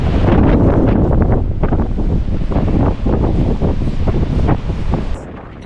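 Strong coastal wind buffets the microphone in a loud, gusting roar with rumbling surges, easing slightly near the end; no voices come through.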